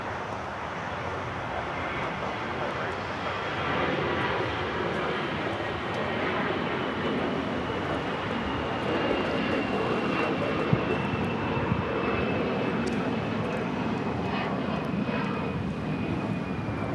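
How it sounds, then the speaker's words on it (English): An American Airlines Airbus A321 jet takes off at Los Angeles International Airport, a sustained broadband engine roar with a faint rising whine, steady and fairly distant, with no talk over it. "That was American Airlines 2543 taking off to Dallas-Fort Worth on the A321"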